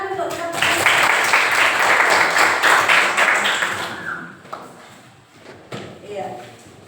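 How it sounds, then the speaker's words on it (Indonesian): A burst of applause from a classroom of children, loud and dense for several seconds, then fading to a few scattered claps with voices nearby. "Tepuk tangan untuk teman-teman."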